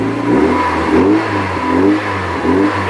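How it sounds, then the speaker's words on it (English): A Mazda MX-5 fitted with a new dual exit exhaust revs in a few quick blips, the engine rising and falling in a loud, raspy exhaust note recorded close to the tailpipes. "Give it a little rev."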